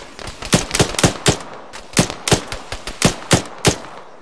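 Rapid bursts of gunfire crack through a MOUT urban combat training exercise, loud and close, with about a dozen sharp shots in uneven clusters and no voices between them.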